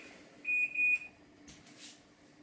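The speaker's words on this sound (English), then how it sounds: "That was my timer to say that it was a minute was up" A kitchen timer sounds two short, bright beeps in quick succession, near and clear over a quiet room.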